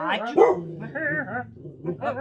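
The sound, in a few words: dog barking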